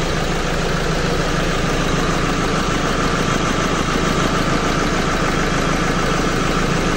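A Nissan Navara engine with a low-power fault idles close by, a loud, continuous, rough rumble whose idle surges up and down.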